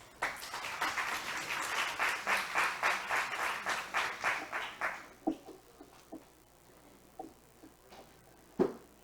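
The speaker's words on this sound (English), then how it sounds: "Please give a warm round of applause to Dr. Lopez." A conference audience applauds a speaker, a brisk run of rhythmic clapping that swells and holds for several seconds, then thins to a few scattered claps and knocks.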